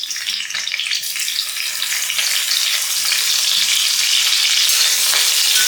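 Green chillies and curry leaves fry in hot oil while Kerala-style yam upperi is prepared, producing a loud, continuous crackling sizzle up close that builds slightly and stays steady throughout, with no voices.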